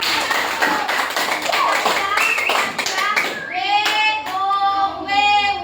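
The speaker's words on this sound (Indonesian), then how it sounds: "tepuk tangan buat W" Clapping for a student in a classroom training session, a burst of hand claps and taps that gives way to children's voices and speech.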